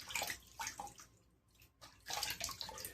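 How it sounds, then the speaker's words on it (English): Water splashes and drips as a face is rinsed during shaving, two bursts of close, soft splashing separated by a brief pause. "We're just going to rinse our face off"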